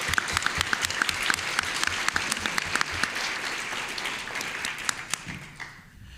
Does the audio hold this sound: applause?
yes